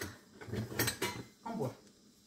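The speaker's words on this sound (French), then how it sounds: "Je vais aller voir un petit peu au fond avec une cuillère" Cooked rice in a TM6 Thermomix bowl is stirred with a wooden spoon, giving a few close, muffled knocks and scrapes in quick bursts, and the clip ends quietly.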